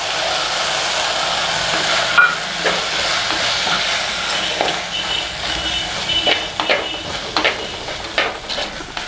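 Onions and tomatoes sizzling steadily in a pan of Tamil fish curry base as chili powder is added, with soft intermittent scraping and stirring clicks close by, no talking.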